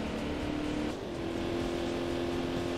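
A Corvette C4 engine in a PC racing video game holds a steady, droning rev with a sustained whine, briefly dipping then climbing again, loud and continuous with no talking.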